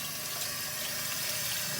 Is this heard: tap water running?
yes